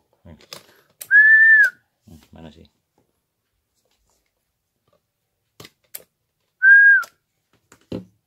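Two short, clear whistles into a mobile radio microphone a few seconds apart, each about half a second long, between brief bits of speech and small clicks.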